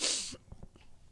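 A single sharp sneeze bursts out close to the mic, followed by a few soft sniffs and breaths in a quiet room.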